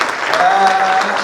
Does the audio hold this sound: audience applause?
yes